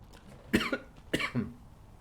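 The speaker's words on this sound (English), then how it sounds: "A bit of a coughing fit there for some reason" Two sharp, harsh coughs a half-second apart from a single person nearby, each burst loud and rough, with quieter game ambience faintly underneath and no talking.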